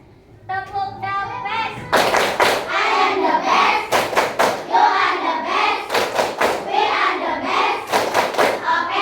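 Schoolchildren standing in a classroom perform a group clapping chant, sharp bursts of claps in a repeating rhythm alternating with their voices chanting together.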